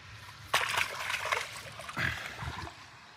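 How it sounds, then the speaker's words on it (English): Water in a creek among lily pads splashes and sloshes softly in a few brief bursts near the listener, with light trickling between them. "This is a creek, by the way."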